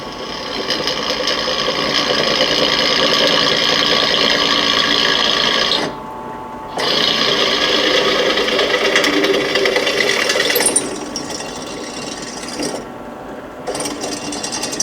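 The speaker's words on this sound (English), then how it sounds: "I'm going to put a hole in each corner so that I can mount that in there" A drill press bores holes for a seat suspension mount on a riding mower converted to an ATV, a steady loud mechanical whir broken by two brief pauses.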